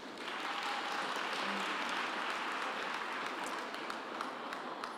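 Graduates of the Faculty of Natural and Agricultural Sciences at the 2019 Qwaqwa graduation ceremony receive a sustained round of applause, a broad even roar of many clapping hands filling the hall.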